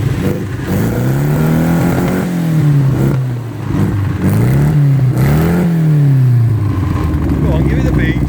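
An engine fitted with rebuilt Dellorto DHLA 45 carburettors is revved repeatedly, its loud, close note rising and falling in several quick blips, with voices talking over it.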